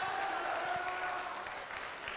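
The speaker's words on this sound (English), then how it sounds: "So give yourself another round of applause." A charity gaming livestream audience claps at a steady, moderate level, sustained for the whole stretch and easing slightly toward the end.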